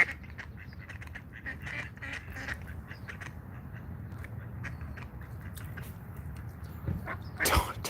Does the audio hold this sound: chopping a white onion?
no